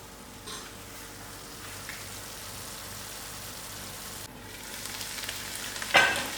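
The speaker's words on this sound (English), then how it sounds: "Now I will allow this to come to the complete fry." Lamb mince with masalas frying in a pan, a steady soft sizzle that holds evenly throughout, then a brief clatter near the end, no voices.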